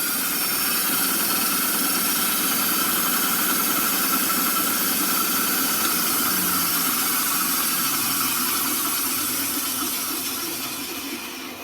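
A power saw cuts through wood for a turkey-shaped fall decoration, a loud, steady buzzing whine with hissy grit held close for several seconds before tapering off.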